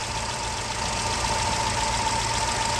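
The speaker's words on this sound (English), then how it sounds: "As you can see, the engine is now running" A Vauxhall Corsa D engine idles steadily after its crank and cam timing has been set with a timing lock tool, giving a close, even hum with a light rhythmic ticking throughout.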